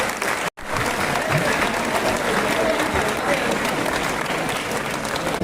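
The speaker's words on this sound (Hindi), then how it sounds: "जोरदार ताली बजा के" A large crowd claps loudly and continuously, dense sustained applause with a brief cut near the start.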